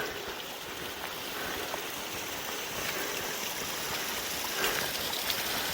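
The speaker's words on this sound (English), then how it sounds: "Nice little stream right here coming in." A small stream flows steadily nearby into a forest creek among old growth logs, a continuous gentle rushing and trickling with no voices.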